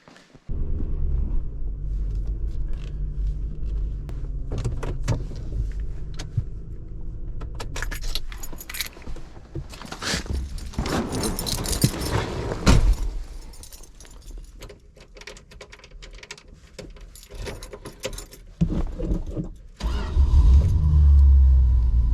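Keys jangle and a car engine rumbles nearby, with shifting motor noise and a deep idle swelling again at the end.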